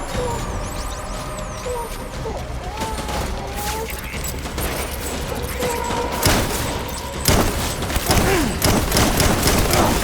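Sustained gunfire in the Death Stranding video game, a dense fusillade of shots and mechanical clatter over a rumbling low drone, with louder bursts toward the end and voices calling out amid the battle.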